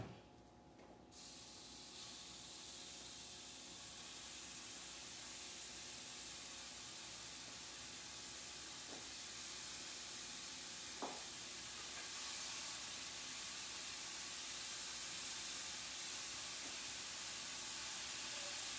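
Meatballs frying in a warm pan on a stove, a steady broadband sizzle and hiss that holds evenly throughout, with a couple of faint pops and no talking.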